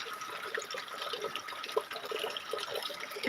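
Rainwater pours off a tin roof gutter into a bucket, making a steady splashing, trickling rush with faint drips, moderately close and continuous without talking.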